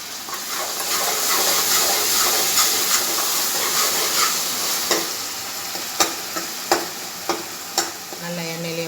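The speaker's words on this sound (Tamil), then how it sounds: "நல்லா எண்ணெயிலே வதங்கட்டும்." Two spoons of ginger garlic paste frying in oil for paruppu urundai kuzhambu with a constant sizzle and hiss, punctuated toward the end by several sharp clinks of a spoon stirring the pan.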